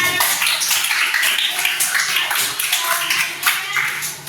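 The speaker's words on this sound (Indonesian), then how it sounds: "Tepuk tangan untuk teman kita juga." A classroom audience claps together for a fellow student, a dense, bright patter of many hands that stays loud and close for several seconds with no talking over it.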